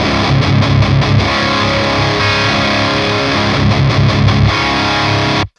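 A distorted electric guitar through a Quad Cortex modelling a Diezel VH4 amp plays a dense, sustained high-gain riff with palm-muted chugs. The tone is loud, thick and continuous, with no voice, and it cuts off abruptly at the end.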